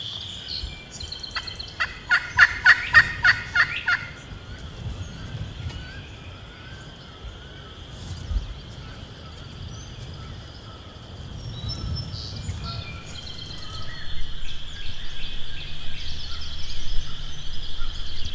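Wild turkey gobbling near decoys on public land in Iowa: a loud rapid gobble rattles out early, followed by a long quiet outdoor stretch with faint birdsong and insect hum, and a rising breeze near the end.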